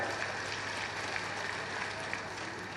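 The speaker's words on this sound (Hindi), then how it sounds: "जोरदार तालियों के साथ भाइयों" Faint, steady applause from a crowd at a political rally honouring the party's national president, a continuous wash of clapping with no distinct breaks.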